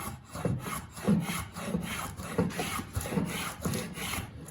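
Plough plane cutting a groove in wood, with a rhythmic series of close rasping strokes as the blade shaves along the board.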